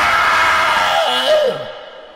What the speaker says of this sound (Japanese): これは多分ポケモンの鳴き声ですよね